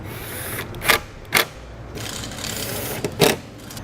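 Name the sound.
reinstalling screws on Chevrolet tail lamp assembly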